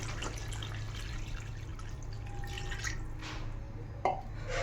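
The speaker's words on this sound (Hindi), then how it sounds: "अब मैं डालूंगी इसके अंदर पानी।" Water trickles and drips into fried masala in a cooking pot, a light splashing and pouring close by that ends in a brief sharper splash, with no talk over it.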